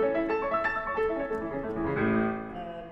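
Arpeggios on a regular acoustic piano run up and down as a quick sequence of separate notes, then settle into a ringing chord near the end. The sound is close and clear, with no voices over it.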